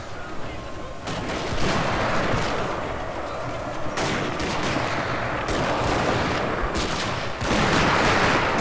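Gunfire and artillery from the video game Shogun 2: Fall of the Samurai, a dense continuous battle din of musket volleys and booming cannon with sharper bursts rising through it, and a voice or two heard faintly in the mix.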